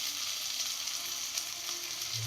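Steady, dense sizzling of ginger garlic paste frying in a hot pan, close and continuous, with a faint low rumble near the end.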